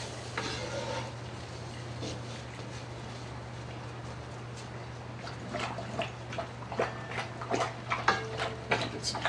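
Pork sears and is stirred in a Dutch oven, a steady low sizzle under scraping and stirring strokes that grow busier and louder toward the end.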